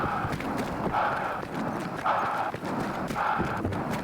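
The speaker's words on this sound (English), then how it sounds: "this example is just the player's movement sounds" Horse hooves clip-clop at a steady trotting rhythm as player movement sounds in Battlefield 1, close and continuous, with a rattling of gear layered over each cycle of steps.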